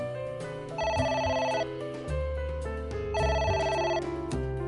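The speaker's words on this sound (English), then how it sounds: "A phone. Should I pick it up?" A telephone rings in the video game AI: The Somnium Files: two distinct bursts of bright, trilling bell rings separated by a pause, set over a steady background music bed.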